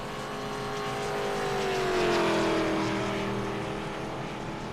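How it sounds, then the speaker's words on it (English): Race cars at the IROC Kansas race roar past as the field is waved around, a loud sustained engine drone swelling to a peak mid-pass and then easing slightly, with no talk over it. "Wave around cars going on by."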